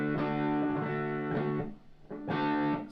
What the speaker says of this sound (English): But that's my distortion pedal.